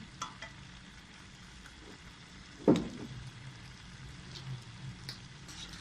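Mayonnaise chicken pasta is stirred in a pan over a soft background sizzle, with scraping and one sharper clunk of the utensil partway through; no one talks.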